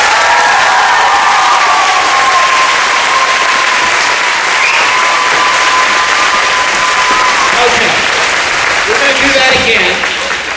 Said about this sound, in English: can we give Mrs. Thompson a huge round of applause?